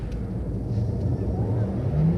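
A Porsche Taycan electric car drifts in a donut, a steady low motor whir and tyre roar with a rising whine near the end, loud and continuous throughout.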